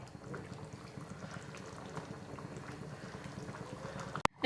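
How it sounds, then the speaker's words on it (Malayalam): Chickpea curry, kabuli chana masala, bubbling steadily in a pot as a soft, close, continuous low burble, ending with a brief sharp clatter. "ഇത് നന്നായിട്ട് തന്നെ തിളച്ച് വന്നിട്ടുണ്ട്"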